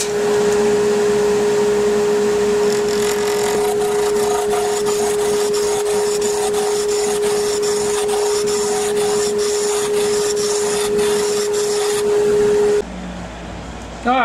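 A spalted wood bottle stopper spins on a lathe, giving a loud, steady motor hum with a constant tone while a cutting tool scrapes and rasps against the turning blank, then the sound cuts out near the end.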